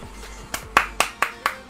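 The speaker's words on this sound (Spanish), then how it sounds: "Aplausos." A few hands clapping in slow, evenly spaced claps, about five sharp close claps at a steady rhythm during a Rocket League match, with faint background noise before them.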